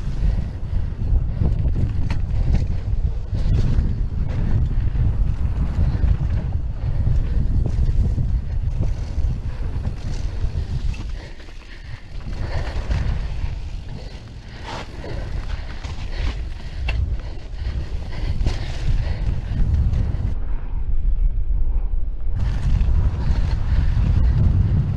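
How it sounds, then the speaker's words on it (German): Strong wind batters a helmet-mounted camera microphone during mountain bike riding on a slag-heap jump line, a constant loud roaring buffet with brief lulls. "Da sehr windig."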